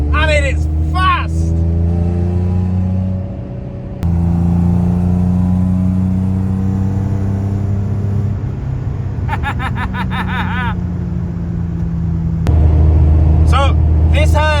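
A loud BMW E46 with a swapped engine and an E90 gearbox, heard driving past and pulling hard, a deep droning engine tone rising through the gears, with voices talking over it.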